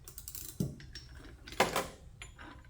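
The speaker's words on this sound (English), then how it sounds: "Time to put the big socket on." A big socket is pushed onto a long ratchet extension, giving a couple of brief metallic clicks and clacks over quiet background handling.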